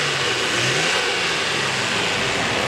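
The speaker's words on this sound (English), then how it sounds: "Engine starts and runs perfectly." A 1999 Nissan Skyline R34 GT-R V-spec engine runs steadily near the listener, a constant dense mechanical hum with a wide hiss and a faint low pulsing, with no voices.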